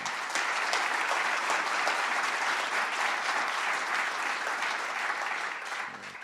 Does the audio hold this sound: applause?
yes